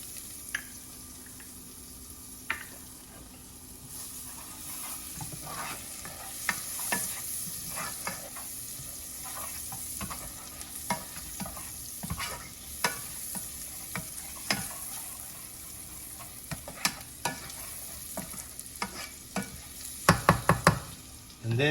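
Garlic cloves frying in a pan for a shrimp omelette give a steady, soft sizzle with frequent scrapes and taps of a spoon stirring, ending in a few sharper clatters near the close.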